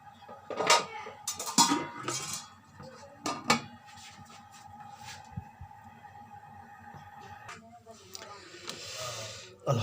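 Vegetable pulao is mixed in a cooking pot: a spoon clanks and scrapes against the metal in irregular bursts, with quieter stretches of low rustling in between and some voice in the background.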